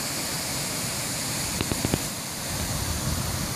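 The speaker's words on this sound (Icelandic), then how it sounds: "Hérna erum við stödd við fossinn í Fossgilinu." Steady broadband rush of a tall waterfall in Fossgil gorge, off Ófærugil in Iceland, heard close and continuous, with a few brief thumps partway through.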